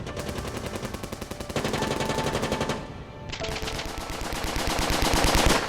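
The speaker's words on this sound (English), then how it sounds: "then the machine guns opened up" Machine guns firing in rapid sustained bursts during a night battle involving Marines, loud and dense throughout with no pauses, the rattle swelling toward the end.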